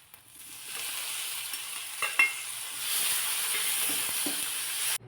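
Garlic, pepper and cumin paste sizzles and fries in a pan. A continuous bright hiss runs close and steady, with a few scraping stirs partway through and an abrupt stop at the end.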